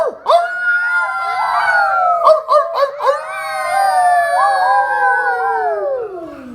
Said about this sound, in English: a wolf is howling.